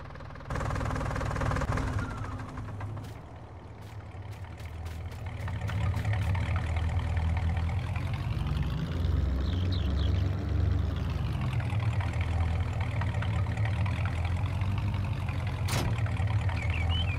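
A tractor engine in Farming Simulator 19 runs steadily throughout, a continuous low rumble with a brief dip early on and a swelling surge near the middle, with a few faint clicks over the top and no talking.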